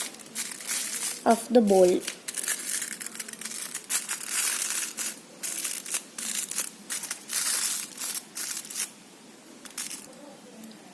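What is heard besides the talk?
aluminium foil being pinched and crumpled around a bowl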